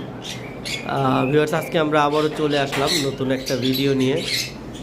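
Semi-adult sun conures squawk in short bursts beneath someone talking steadily close by, their harsh calls surfacing at the start and end of his speech.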